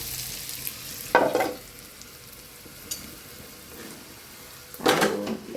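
Small potatoes fry in a pan of hot oil, making a steady soft sizzle that swells into two louder crackling bursts as they are stirred.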